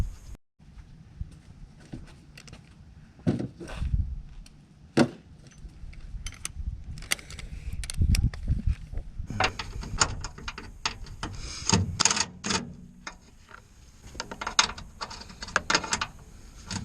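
A ratchet works loose a 10mm bolt holding a car's coolant reservoir, giving bursts of close mechanical clicking and metallic clatter between pauses, with no talk.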